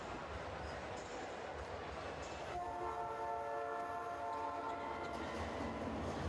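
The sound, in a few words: train horn sound effect in arena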